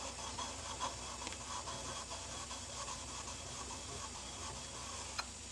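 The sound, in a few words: chisel being sharpened flat on a sharpening stone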